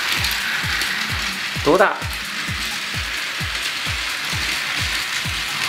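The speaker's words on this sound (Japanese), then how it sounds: "はい、では4両編成に改造できたので走らせてみましょう。" A Daiso Petit Train toy train, converted to a four-car set, runs with a steady rhythm of sharp, close clicks repeating about three times a second. A short spoken remark breaks in partway through.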